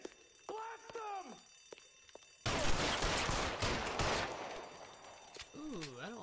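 Gunfire in the L.A. Noire Remastered video game opens in a loud, dense burst of rapid shots and rattling that runs for several seconds. Game voices and tones come before the burst and after it.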